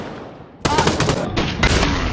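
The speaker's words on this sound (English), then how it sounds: "Shoot it up in the air." Gunfire in the Pavlov VR shooter game, shot into the air: after a quiet start comes a loud rapid string of shots lasting over a second, sounding close and sharp.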